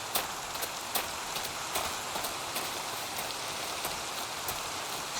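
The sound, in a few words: rain falling in the video game Minecraft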